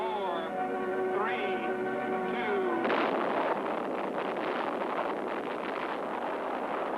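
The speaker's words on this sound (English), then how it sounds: "The explosion was 600 times more powerful than the bomb dropped on Hiroshima." The first thermonuclear device test explosion at Eniwetok Atoll in 1952 erupts as a sudden, massive broadband roar that sustains for several seconds, following a fading tonal musical passage, loud and dense with rumbling turbulence.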